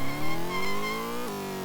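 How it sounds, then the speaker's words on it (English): Formula 1 car engines in the 1991 F1GP game at Magny-Cours, a loud, high buzzing synthesized whine rising steadily, then dropping sharply at a gear change, with no talk. "Very loud, these Formula 1 cars."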